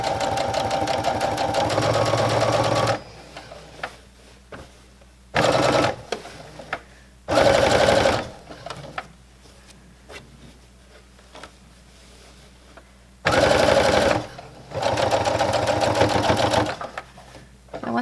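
Sewing machine stitching a cottagecore-style waist apron, running in several loud bursts of rapid mechanical whirring separated by quiet pauses where the presser foot is lifted to pivot at corners.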